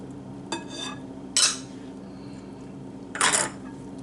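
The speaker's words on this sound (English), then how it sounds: "give that a good stir." Utensil scraping and clinking against a bowl while mixing scalloped corn casserole ingredients with melted butter, pepper, salt and onion: three short bursts of stirring, close and moderately loud, against a low background hum.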